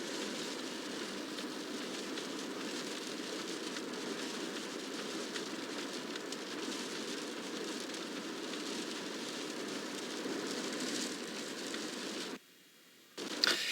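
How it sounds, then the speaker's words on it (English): Steady rain from a severe February thunderstorm with gusty southeasterly winds, a continuous loud wash of broadband noise that cuts out briefly near the end. "Where we are locally, we've got the rain, the distant lightning, and still dealing with some of those gusty southeasterly winds coming in out ahead of this line."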